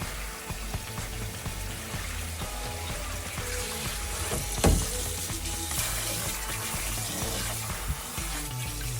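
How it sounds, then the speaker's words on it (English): Steady running water splashes and gurgles in a sink while raw pork is rinsed and handled, with occasional clatters; no talking. "we're gonna clean the meat very well"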